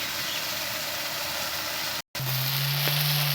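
Ginger, garlic, onion and tomato paste frying in a pan, giving a steady close hiss and sizzle that breaks off briefly and then resumes, with a low hum underneath after the break.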